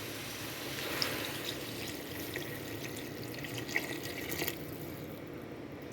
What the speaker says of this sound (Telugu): ఒక 2 గ్లాసెస్ వాటర్ వేసేసానండి.